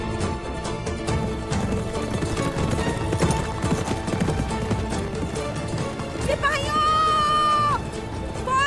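Horses galloping with rapid clip-clopping hooves in a historical drama scene, dense and busy under music and voices, with a brief whinny-like tone near the end.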